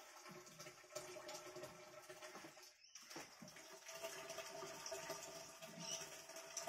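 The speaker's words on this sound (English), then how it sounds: "So make sure you fill the pipes up with water as well." Water is poured from a watering can into pipes of a frog hotel for green tree frogs, giving a faint, continuous trickling and gurgling with a brief pause partway through.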